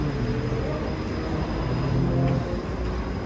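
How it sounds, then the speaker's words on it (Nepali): A trolleybus moves along a street in Sofia, giving a steady low rumble and hum of traffic that stays even and moderately loud for the whole stretch, with voices faintly mixed in. "ट्रली बस हिँडिरहेको छ।"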